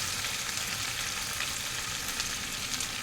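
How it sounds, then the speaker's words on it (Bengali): Potatoes and tomato fry in a pan, giving a steady, close sizzle with faint crackles throughout and no voices. "আলুটা আমার হালকা ফ্রাই হয়ে গেছে, টমেটোটাও গলে গেছে।"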